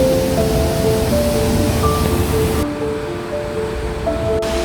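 Thornton Force waterfall in the UK gives a steady, full broadband roar of falling water, constant and close, with faint tonal streaks over the wash and no voices.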